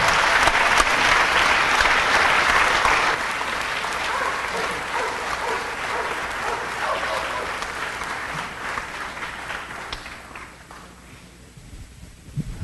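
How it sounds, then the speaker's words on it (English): City council chamber audience applauds in a long, dense burst of clapping that stays strong, then gradually thins out and tapers off toward the end. "another round of applause for Charlie and Ryan and Gabriela."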